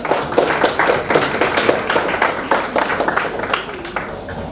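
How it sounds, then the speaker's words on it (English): Audience applause at a school award ceremony, brisk continuous clapping from a crowd, fairly loud and even throughout with no voices standing out. "appreciate them with a huge round of applause"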